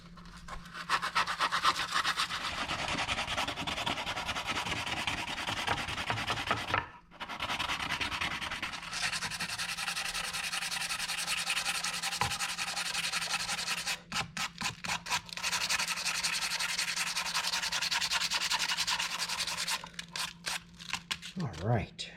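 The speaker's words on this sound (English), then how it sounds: "I'm using a 100 grit sandpaper." A wooden cake-server handle is hand sanded with 100 grit sandpaper, giving long, continuous rasping strokes close up, with a brief pause and quick choppy rubs later; a voice talks faintly underneath.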